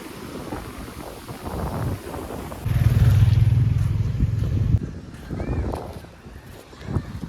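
Sea waves and wind at the shore near Bet Dwarka and Okha make a steady, broad rushing roar that swells into a heavier low rumble midway, then eases with occasional gusty surges.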